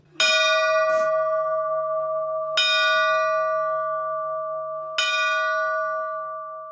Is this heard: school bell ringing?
yes